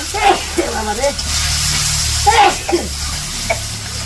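Ground spices, turmeric and chili, sizzle in a pan after a little water goes in, a close frying hiss heard beneath a voice talking through the clip.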